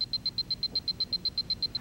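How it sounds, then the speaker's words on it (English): A Seiko 8259 watch alarm gives a rapid run of thin, high electronic beeps at an even pulse, about thirteen in under two seconds, faint over a low background hiss. "The Seiko has an alarm that sounds like this."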